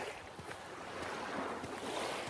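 Surf breaking steadily near the shore, with wind buffeting the microphone into a constant, fairly loud wash of noise and no voices.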